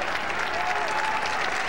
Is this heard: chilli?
no